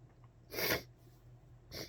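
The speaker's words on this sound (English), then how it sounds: "Excuse me for my sniffles." Two quick sniffs through the nose, the first stronger and longer, the second short and lighter, close by with no talking.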